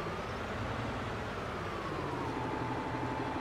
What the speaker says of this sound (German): Hupe funktioniert